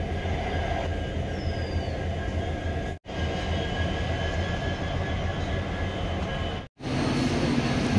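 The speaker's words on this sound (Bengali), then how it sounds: "ডাউন গুয়াহাটি হাওড়া সরাইঘাট এক্সপ্রেস ঠিক তার রাইট টাইমে প্ল্যাটফর্ম ছেড়ে বেরিয়ে যাচ্ছে" The Guwahati–Howrah Saraighat Express leaving a Guwahati platform: a continuous low rumble of rolling coaches with a faint squeal, broken by two brief dropouts.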